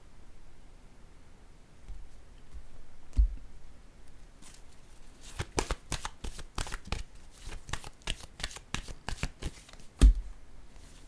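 Tarot cards laid down one after another on a surface, making a quick run of crisp slaps and soft rustles after a quiet start.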